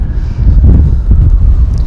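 Strong outdoor wind buffeting the microphone, heavy low rumbling gusts that surge and dip in loudness for a couple of seconds with no voices.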